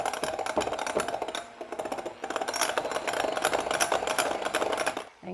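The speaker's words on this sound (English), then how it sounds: "We're just gonna blend that up on low speed to begin with" Steady whirring drone of an electric mixer on low speed blending cream cheese with half and half for keto carrot cake frosting, close and continuous, briefly dipping before cutting off near the end.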